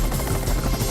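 A police helicopter passes overhead during a police dog operation, its low rotor thump beating fast and steady, loud and close for a brief moment with no talk.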